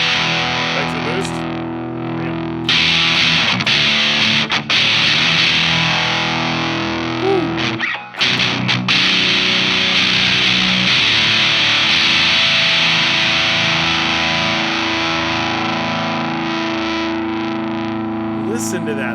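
An electric guitar runs through the boost side of a Thorpy FX Electric Lightning overdrive pedal, loud and sustained with long ringing notes and chords, one brief dropout midway, and no voice over the playing.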